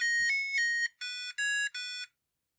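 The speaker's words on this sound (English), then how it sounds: "This is like the left player's buzzer here and the right player's buzzer" An electronic tone sequence from a VTech PreComputer 1000 quiz game, a buzzer-like series of four bright synthetic beeps, the first long and the rest shorter, loud and clean, then silence.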